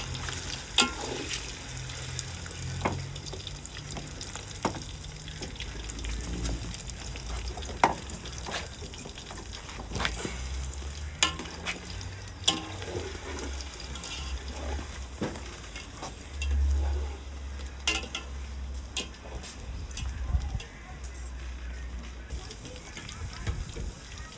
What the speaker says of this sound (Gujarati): પનીર તળવા મૂકી દીધું.